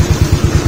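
A Yamaha Mio scooter engine idles with its headlight, park light and mini driving lights all switched on, giving a close, steady low throb of evenly spaced pulses with no talking.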